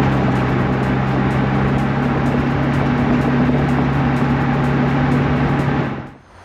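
Nissan R35 GTR out on a test drive, a steady loud engine drone with a low, even hum and road roar throughout, fading off sharply at the very end.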